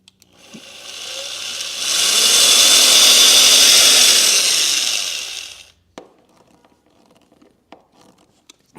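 A power tool drives four small screws into an attached part, a loud, steady whirring burst lasting several seconds that then stops, followed by faint handling clicks and taps.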